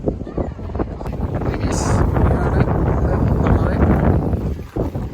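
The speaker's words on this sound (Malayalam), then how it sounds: "നല്ല കാറ്റുണ്ട്, അപ്പോൾ സൗണ്ട് കുറച്ച് കുറേ കാരണം" Strong wind buffets the microphone in a continuous low roar on the Qetaifan pedestrian glass bridge in Qatar, with a voice faintly audible beneath the gusts.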